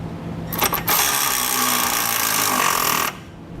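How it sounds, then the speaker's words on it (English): A power impact tool tightens 3/8 flange nuts with a 9/16 socket while an air suspension kit is installed on a 2016 Chevrolet Silverado 2500, giving a few short bursts followed by a loud, sustained rattling hammer of about two seconds. "I'm going to come back with a 9/16 socket and I'm going to tighten up the nuts."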